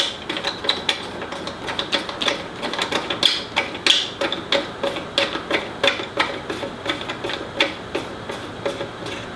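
A screw is driven by hand to fasten a Festool router base onto a router table, making a close run of rhythmic ratcheting clicks and creaks with no voices.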